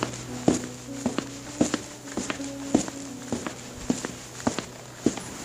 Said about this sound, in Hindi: अब पैरों की आवाज और भी तेज हो गए थे